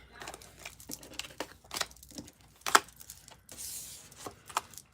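Tarot cards being shuffled in one full shuffle during a live reading: a string of crisp, papery riffles and flicks in uneven bursts, close to the mic, with one sharper snap partway through.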